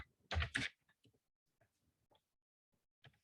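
Keyboard being typed on during a computer class, a couple of loud clacks followed by sparse, faint key taps.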